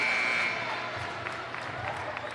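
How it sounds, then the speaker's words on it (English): A high school basketball crowd at Roseburg versus Grants Pass gives a steady round of applause and cheering, with a short buzzer tone at the start, under a commentator's voice. "As Jace Wilder gets a round of applause, the senior heads to the bench."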